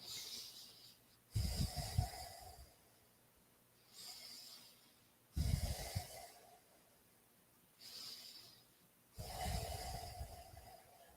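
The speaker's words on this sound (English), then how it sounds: "One more nice big deep breath." Deep, audible breathing during a yoga session for scoliosis, three slow cycles of long inhales and exhales with soft breathy hiss and pauses between, close and fairly quiet, no talking.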